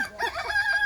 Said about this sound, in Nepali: कति रमाइलो भाले भएको छ